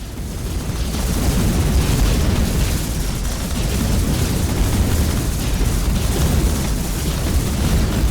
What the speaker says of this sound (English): double missiles, get them all out there